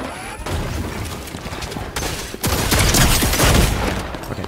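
A turret in Fortnite fires a dense, continuous barrage of loud shots, briefly dipping, then pounding on even harder through the rest of the stretch.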